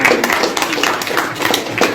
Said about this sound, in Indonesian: tepuk tangan buat pertanyaan ini